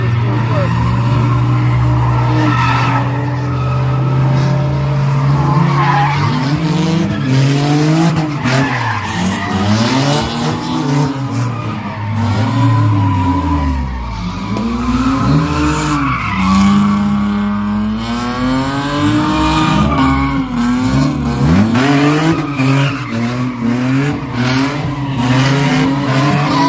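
An RV spins donuts, its tires skidding and squealing in long, rising and falling wails over engine noise, with voices heard throughout.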